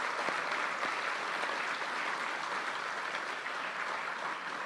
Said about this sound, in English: he deserves a very robust round of applause for all the work that he has done